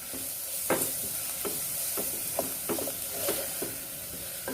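Three green chillies sauté in a pan for kabsa, giving a steady close sizzle with repeated short scraping stirs at an irregular rhythm, no talking.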